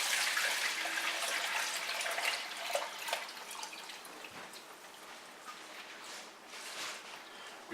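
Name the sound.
warm goat milk being poured into a container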